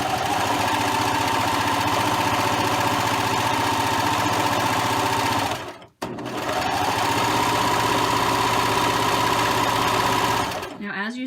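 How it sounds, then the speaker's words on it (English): A serger runs close and loud, sewing a rolled hem on a dress in a steady, fast mechanical whir that halts briefly midway, restarts, and then stops near the end. "As you serge, you want to try to keep your speed nice and steady."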